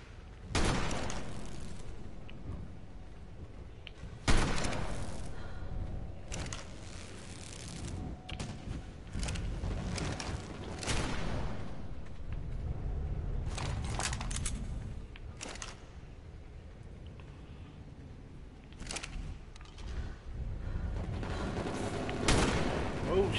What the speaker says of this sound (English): That shotgun wrecks.